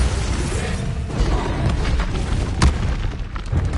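A Bombarda spell detonates in Hogwarts Legacy as a loud, boomy burst with rumbling low end, followed by crackling debris and a sharp secondary pop, with no talk over it.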